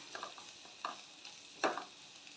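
Kashmiri chili powder with green chilies is stirred in a hot pan, giving a few soft, separate scraping strokes over a faint sizzle, quiet and close.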